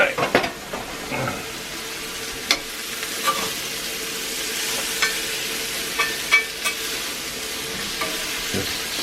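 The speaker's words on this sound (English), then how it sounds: "Just stirring my mushroom" Mushrooms sizzle in a cast iron pan with a constant frying hiss, punctuated by occasional scraping taps as a utensil stirs them, heard up close.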